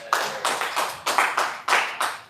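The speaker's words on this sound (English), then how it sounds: "Let's clap for ourselves." A church congregation claps hands together in a brisk, even rhythm, about seven loud bursts of applause in quick succession, close and full, with no talking.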